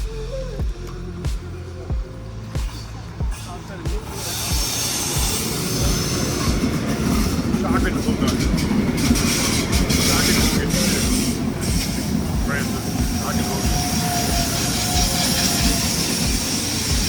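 Rail journey aboard a German train departing Cologne main station bound for Munich, with a steady rumble of wheels on track and rhythmic clatter, louder after the first few seconds, with no speech.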